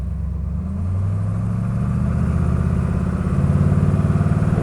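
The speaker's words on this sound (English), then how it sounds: "It is the sound of a 7-liter Ford V8." A 7-liter Ford V8 in an AC 428 Frua fastback with a three-speed automatic rumbles loudly and steadily from inside the car while driving, its deep throb swelling slightly as revs rise.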